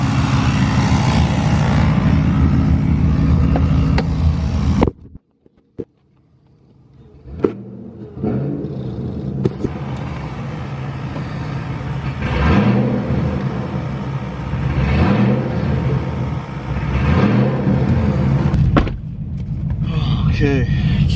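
A loud Cadillac CTS-V engine idles with a heavy rumble, cuts out for a moment, then restarts and rises through several repeated throttle blips, close to the car.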